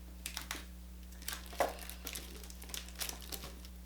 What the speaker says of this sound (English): I'm going to slip it back into my plastic sleeve folder